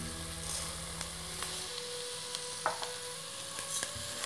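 Rice tipped into onions frying in a pan for mushroom risotto produces a continuous close sizzle, with faint scraping and stirring noises over a low hum.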